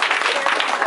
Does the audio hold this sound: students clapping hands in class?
yes